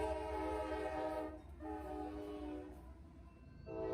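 CSX 124 freight train passing, its multi-tone horn blaring loud with a brief break mid-way, over the low rumble of the rolling train.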